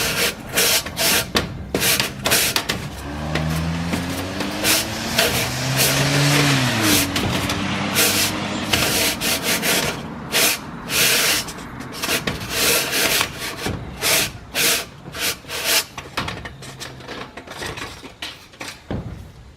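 Chimney brush scrubbed up and down inside a 6-inch flue, rhythmic scraping strokes that rasp loudly and close, repeating in bursts, with a brief rising and falling hum in the middle.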